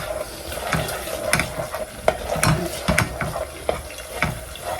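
Minced meat for pasta sizzles in a hot pan while a utensil stirs it, with scraping knocks and clinks against the pan over a steady frying hiss, close up and with no talking.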